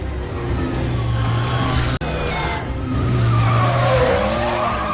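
In a film car chase, car tyres skid and squeal over a roaring engine. The screech holds long and loud, cuts out sharply for a moment, then a second prolonged squeal follows up close.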